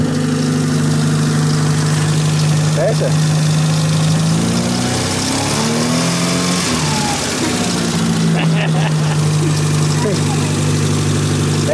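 A $1,700 auction-bought car idles steadily up close, its engine swelling briefly in a mid-clip rev before settling back, while people talk nearby.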